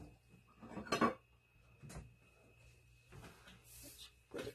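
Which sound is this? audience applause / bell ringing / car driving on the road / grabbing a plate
grabbing a plate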